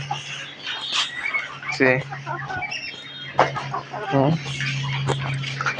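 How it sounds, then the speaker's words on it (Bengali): Hens cluck in a backyard coop, one of them a reddish hen that has just laid an egg, giving several close, repeated cluck bursts amid other poultry noise. "আর এই যে হচ্ছে আমার লালচে মুরগিটা আলহামদুলিল্লাহ আজকে ডিম পেরেছে"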